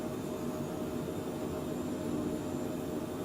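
Cockpit drone of a Cockspur PH100 Phenom jet in Microsoft Flight Simulator, a steady, even broadband engine and airflow rumble that holds constant throughout with no voices.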